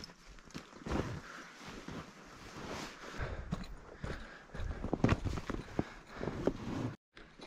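Steady clip-clop of a pack mule's hooves walking on hard ground, with rustling and scuffing around them and faint wind, no talking, on an elk hunting pack trip.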